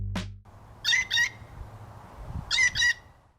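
Blue jay giving two pairs of harsh, squawking calls, fairly close and clear, with a brief thump at the start and a quiet outdoor background.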